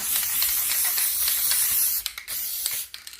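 A steady aerosol hiss of basting spray from a can runs for about two seconds, then breaks into a few short close bursts of spray onto fabric.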